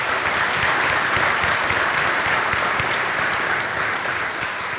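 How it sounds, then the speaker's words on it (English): A crowd at a high school graduation claps steadily, dense and sustained applause from many hands filling the room with no talking over it. "Let's give them all a round of applause."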